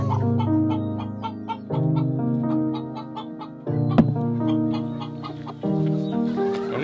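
A rooster clucks repeatedly nearby in steady, rhythmic bursts in a muddy duck coop, with a sharp click partway through and no talking.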